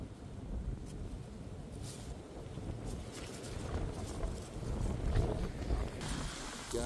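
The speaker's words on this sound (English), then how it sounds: "because it's windy as shit out here" Steady wind roars and buffets the microphone outdoors, a constant low rumble that swells slightly louder toward the end.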